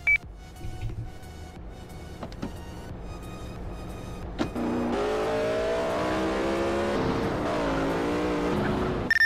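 Car engine in the GTA MTA RP video game, idling with clicks and beeps before revving up loudly into a steady, sustained roar of acceleration.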